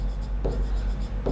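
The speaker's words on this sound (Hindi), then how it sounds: "अब लिख रहे हैं हम" Physics notes on transistor dynamic resistance are written by hand, giving a quick pair of close scratchy strokes over a low steady background hum.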